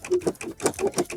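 A sewing machine fitted with a spring needle stitches free-motion embroidery, a quick, even, mechanical chatter of needle strokes, close and moderately quiet, with no talk.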